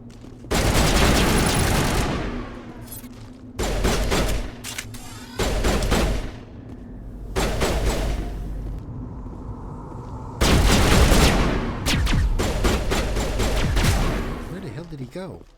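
Loud bursts of automatic gunfire from the video game Mass Effect, several separate volleys with short gaps between them, while a player talks over the combat.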